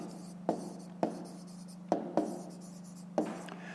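Pen strokes on paper during a math exercise: soft, separate scratchy taps at irregular intervals, about six of them, quiet over a steady low background hum.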